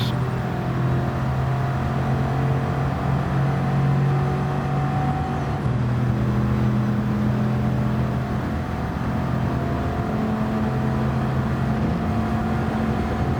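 A Gr4 race car engine drones steadily at Le Mans in Gran Turismo 7, a loud continuous hum with shifting pitch as the car rolls through a corner, with no talking.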